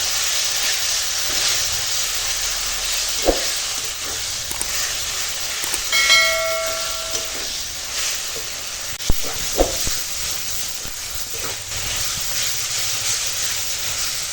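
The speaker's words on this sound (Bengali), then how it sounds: "মশলাটা ভালো করে কষিয়ে নেব" Spice masala of turmeric, salt and chili powder frying in a pan: a loud, continuous hissing sizzle with a few brief clinks and knocks scattered through it, and no voices.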